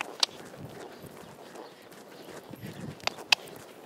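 Soft, steady hoofbeats of a horse walking on soft ground, with a few sharp clicks and bangs standing out against a low background rumble.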